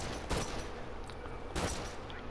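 Two loud gunshot bursts ring out in The Last of Us Factions multiplayer match, spaced about a second apart over steady game ambience.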